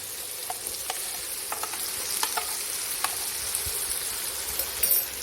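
Ginger stirred into tomatoes and green chillies frying in a pan: a soft, continuous sizzle broken by scattered scrapes and clicks of a spoon, all close and fairly quiet, with no talking.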